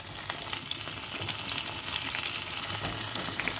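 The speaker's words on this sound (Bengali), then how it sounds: "তেলটা মোটামুটি গরম হয়ে গেছে এবার আমি কিন্তু পটলগুলো দিয়ে ভেজে নেবো" Pointed gourd frying in hot oil, a steady close sizzle with crackling pops throughout, no voices.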